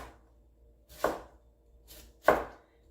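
A knife chops half a small head of cabbage by hand: two crisp, close thuds about a second apart with a fainter tap between them, and no talking.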